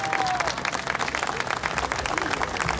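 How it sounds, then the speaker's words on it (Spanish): An audience applauds Peruvian music performed by a university criollo group, with many hands clapping in a lively, uneven patter and some crowd noise and voices under it. "Un aplauso para la música peruana"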